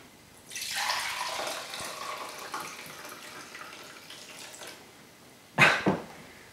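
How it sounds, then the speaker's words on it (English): Dirty water from a Bissell Powerwash Deluxe upright carpet washer poured into a glass jug, a steady close splashing stream running for several seconds, then a brief louder slosh near the end. "Just put a little glass jug here so I can tip some of the dirty water into that."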